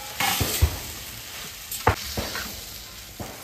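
A spoon stirring a potato and tomato curry frying in a pan, with soft sizzling throughout and a few distinct scrapes and knocks against the pan, close by.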